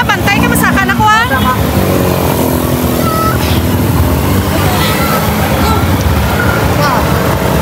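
Motorcycle riding through flooded city streets in Iloilo City, a steady loud engine drone with water churning and splashing beneath it and people talking over the noise throughout.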